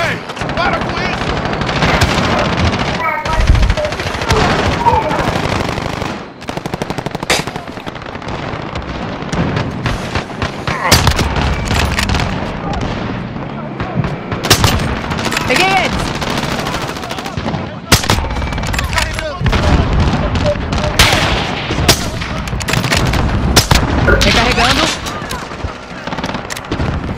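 Rapid bursts of automatic gunfire from a shooter video game, dense and loud throughout, with bursts overlapping and pausing briefly, under and around occasional voices.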